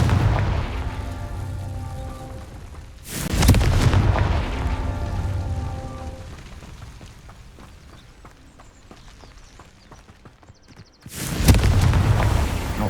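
Confringo fire spell explosions in Hogwarts Legacy: two booming blasts several seconds apart, each bursting loud and rumbling away slowly, with a lower-level ambient bed between them.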